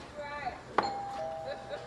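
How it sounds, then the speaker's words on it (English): A single bright chime rings out, followed by a lingering electronic ding-dong tone, with faint voices and room noise around it. "I rang the doorbell so I can hear how it sounds."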